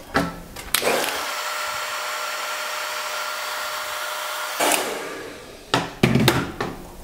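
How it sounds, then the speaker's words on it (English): A handheld hair dryer blows continuously on a section of hair during a blowout, a loud steady whoosh lasting several seconds, with brief bumps and handling sounds before and after. "I'm just going to warm it up real quick with the hair dryer."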